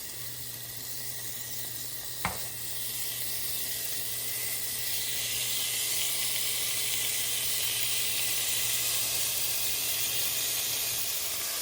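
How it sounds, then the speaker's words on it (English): Pork belly laid in a single layer searing in a pot for a Vietnamese pork belly stew, a steady loud sizzle and hiss after a sharp clink, continuing without talk. "I've put in a single layer of pork belly into the pot just to sear"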